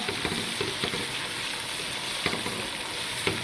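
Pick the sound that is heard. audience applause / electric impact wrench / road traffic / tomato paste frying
tomato paste frying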